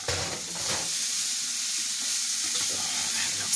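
Kale being stirred in a hot frying pan for spicy chapati rolls, giving a steady close-up sizzle with soft scraping and faint watery crackle throughout, no voices.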